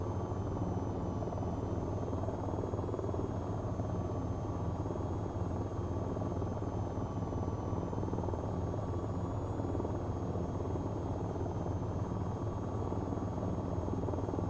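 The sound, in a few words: VTOL aircraft engine hovering in video game VTOL VR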